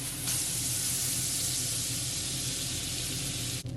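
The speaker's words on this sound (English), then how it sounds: "I'm gonna add 1 tablespoon of butter, and you just want to allow it to melt" A tablespoon of butter melts in a pot on the stove, giving a steady, close broadband sizzle and hiss that holds evenly without pause.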